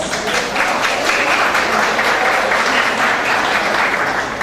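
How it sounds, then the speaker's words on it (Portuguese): A seated audience at an education centre launch event gives a steady, dense round of applause, loud and continuous throughout with no voices over it. "Uma salva de palmas."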